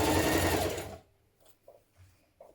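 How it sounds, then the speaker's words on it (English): Sewing machine stitching the side seams of a New Look 6414 blouse, running loud and steady for about a second before cutting off, leaving faint scattered handling sounds. "Pin your side seams and stitch these in place."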